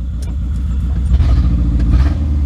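A 2008 four-cylinder mini truck with a five-speed engine idles with a miss, giving a steady low rumble broken by an uneven, stumbling beat up close, with no talking.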